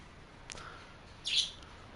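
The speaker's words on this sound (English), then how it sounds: "Oh, and there's my birds." Birds on a beef and dairy farm at Elm Creek in Farming Simulator 22 give a couple of short, bright chirps over a steady outdoor ambience.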